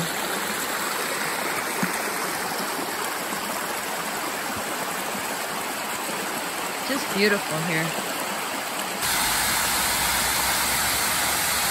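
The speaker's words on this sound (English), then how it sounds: "a long slope of rock where the water just slides down" Water sliding down a long slope of rock at Hickory Run State Park, Pennsylvania, a constant loud rushing wash that continues throughout, with someone speaking briefly over it.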